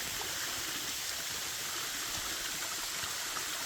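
A stream flows steadily through a green forest of chestnut and pine trees on the Régordane route between Génolhac and Villefort, a continuous, even rush of water with no voices over it.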